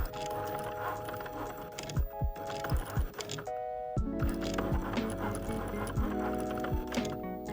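A Cricut Maker cutting machine whirs and clicks steadily, with rhythmic tapping and short mechanical pulses as its pen carriage moves back and forth drawing on a tag, fairly close and not loud.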